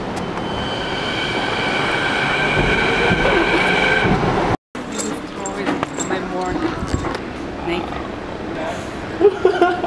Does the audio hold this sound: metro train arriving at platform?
yes